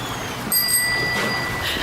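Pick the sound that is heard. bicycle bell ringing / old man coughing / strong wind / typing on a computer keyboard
bicycle bell ringing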